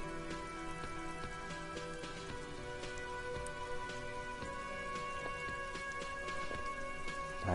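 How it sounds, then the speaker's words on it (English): Steady rain falls in Disco Elysium, a soft continuous patter of drops on surfaces, with scattered ticks and a faint tonal hum underneath and no one speaking. "I hear rain."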